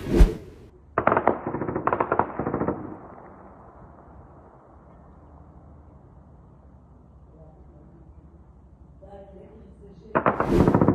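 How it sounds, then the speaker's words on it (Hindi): Israeli military gunfire in southern Lebanon: short loud bursts of rapid automatic fire at the start, a long fading rumble, then another burst at the end. "सीज फायर होने के बावजूद लेबनान के अंदर इजराइल की मिलिट्री गोलीबारी कर रही है"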